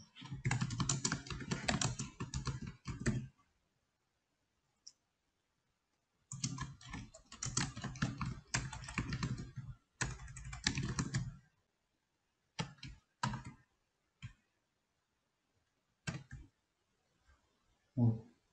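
Someone types on a computer keyboard in close, crisp bursts of rapid key clicks separated by silent pauses, then a few isolated single taps toward the end.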